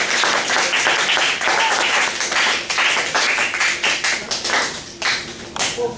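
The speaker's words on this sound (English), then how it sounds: "let's give them a warm round of applause for being with us today" An audience claps warmly for guest speakers at a university talk, a dense, steady round of applause lasting several seconds with no talk over it.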